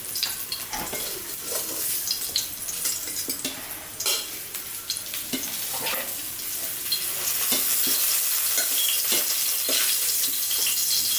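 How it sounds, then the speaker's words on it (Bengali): Slices of pointed gourd, potato and onion fry in oil in a pan, the onion turning slightly charred. A continuous sizzle runs under frequent scraping stirs and light utensil clinks, with no voices. "ভাজাটা সুন্দর করে ভেজেছি, পটল আলু পেঁয়াজ দিয়ে ভাজা"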